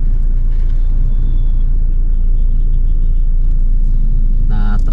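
Road traffic heard from inside a moving car in Dumaguete, a loud, steady low rumble of engine and tire noise with faint passing-vehicle sounds and a brief tonal whine near the end.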